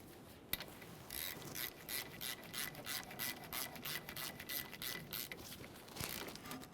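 Caliper slider bolts on a 1998-2011 Ford Ranger front brake being tightened with a ratchet, giving a steady series of quiet rasping clicks and rubs in a close, even rhythm, with no talk.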